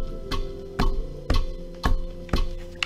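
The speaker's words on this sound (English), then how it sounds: "Just the way that it's clicking or ticking" Clock ticking in the horror video game Bendy, loud and close, with six evenly spaced sharp ticks about half a second apart over a faint steady hum.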